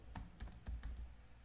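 Quiet typing on a computer keyboard, a handful of irregular key clicks in quick succession, faint and close with no voices.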